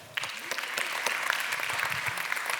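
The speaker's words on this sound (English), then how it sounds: "Clap it up for her." An audience at a talk on amplifying a message through connection claps for a woman, with a burst of fairly close, crisp applause that starts suddenly and carries on steadily with individual claps standing out.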